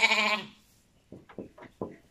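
A goat bleats loudly and close up with a long wavering cry, followed after a pause by a quick run of shorter, softer bleats from goats and lambs on a farm as they wait to head out to pasture.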